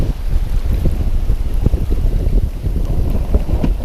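Steady rushing wind and water wash aboard a singlehanded sailboat running wing and wing under a double-reefed main and jib in trade winds near 20 knots, with moderate seas and occasional swell, loud and continuous throughout.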